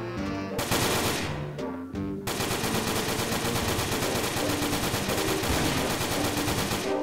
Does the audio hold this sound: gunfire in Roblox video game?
yes